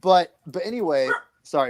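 A pet dog barks and yips a few times nearby, loud and close, mixed in with someone talking.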